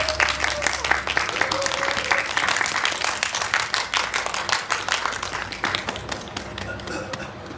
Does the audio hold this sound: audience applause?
yes